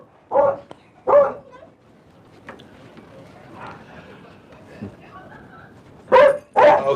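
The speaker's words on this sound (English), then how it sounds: "Got to take care of the doggies because they're having a fit." Several pet dogs bark indoors in loud, close bursts, two early and two at the end, with quieter yips and whimpers between them.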